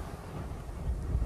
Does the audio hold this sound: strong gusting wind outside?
yes